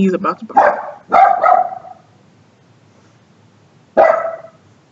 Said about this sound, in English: He's about to bark.